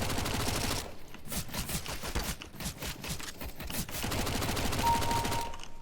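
MAC-10 submachine gun fire in a shooter game, fast rattling bursts in a steady rhythm, fairly quiet, with brief pauses between volleys.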